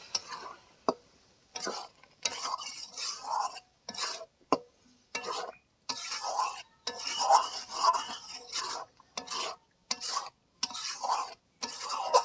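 A spoon stirring boiled Malabar spinach and lentils into a spice mix in a pan, with soft repeated scraping and rubbing strokes in short bursts separated by brief pauses, fairly quiet.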